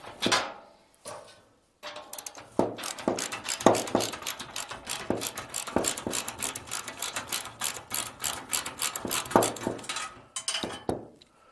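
A ratchet wrench works a bumper bolt off a car under restoration, with rapid, steady ratcheting clicks close up for several seconds after a few opening metallic knocks.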